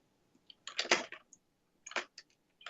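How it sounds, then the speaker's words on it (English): Mouse clicks during 3D modelling work in Blender, a quick close cluster of sharp clicks followed by a few more scattered clicks with quiet gaps between. "A lot of Blender is clicking."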